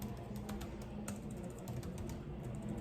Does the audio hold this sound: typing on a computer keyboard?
yes